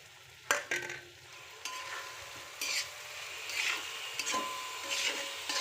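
Onions fry in a pan for tomato thokku, a soft continuous sizzle with intermittent sharp clicks and scrapes of a spoon stirring against the pan, no voices.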